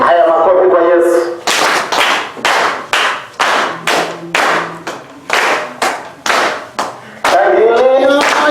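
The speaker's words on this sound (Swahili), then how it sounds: "Haya makofi kwa Yesu." A congregation at a Kenyan discipleship graduation service in February 2020 claps about a dozen loud, evenly spaced beats in unison, with a voice speaking before and after the claps.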